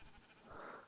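A single short sheep bleat from Minecraft, faint and brief, quavering once over quiet game ambience.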